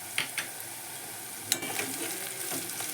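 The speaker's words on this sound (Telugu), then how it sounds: "కాస్త నువ్వులు చిటపట అన్నాక" Sesame seeds crackle in hot oil over onions fried for a tempering, a faint steady sizzle with a few sharp pops early and midway.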